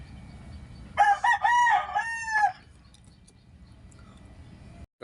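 A rooster crows once, close and loud, a rising and falling call of about a second and a half, followed by quiet outdoor background hum.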